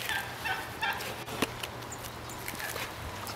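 A wild turkey in Madera Canyon gobbles in a few quick rattling bursts near the start, close and fairly clear against an outdoor background with faint scuffing.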